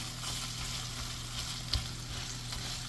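Chicken paella with tomato paste being stirred in a frying pan, a steady low sizzle with a faint scrape from the stirring partway through, fairly quiet and with no talking.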